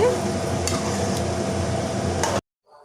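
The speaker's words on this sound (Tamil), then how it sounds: "நம்ம மசாலாலாம் நல்லா கலந்து விட்டுறலாங்க" Close sizzling from a pan while a utensil stirs masala for a marinated chicken gravy, with scattered scrapes and taps, then the sound cuts off abruptly near the end.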